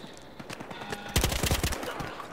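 A gun fires in Battlefield Hardline in a rapid burst of closely spaced, loud shots. They ring out alone after a quieter stretch of background game noise.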